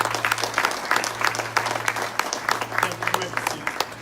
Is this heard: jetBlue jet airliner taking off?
no